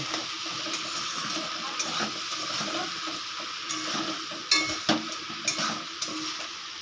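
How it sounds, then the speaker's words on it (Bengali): A spatula stirs fried hilsa fish head into a pumpkin and Malabar spinach curry in a pan, with soft scraping and a low simmering sizzle, then a few sharper clinks of utensil on metal. "তো আবারও আমি আরেকটু নাড়ব"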